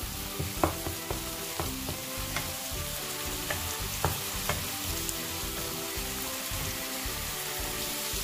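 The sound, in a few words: frying and browning masala for baingan bharta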